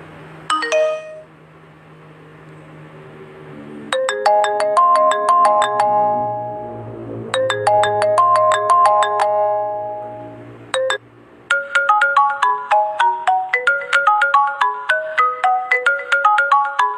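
A downloaded WhatsApp notification ringtone plays loudly and clearly on a phone, a bright melodic chime repeating in several bursts separated by short pauses, with no talking over it.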